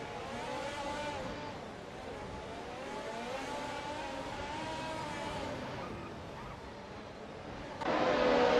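A Ferrari F175 race car engine in a racing video game, a continuous high revving whine with rising and falling pitch as gears shift, ending in a louder burst of engine noise.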